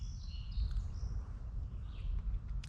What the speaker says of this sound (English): listening to all the birds around